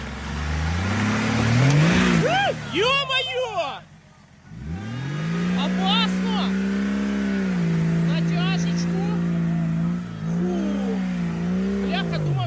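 A Nissan Patrol off-road vehicle revving hard on a trail, its engine surging up and down with a deep sustained roar after a brief lull, while voices talk over it.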